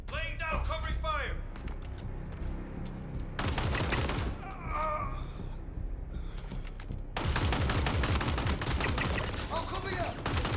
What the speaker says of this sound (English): Laying down, covering fire!